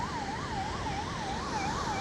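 An ambulance siren wailing in slow, regular rising-and-falling cycles over a steady wash of traffic noise on a jammed road, fairly close and clear.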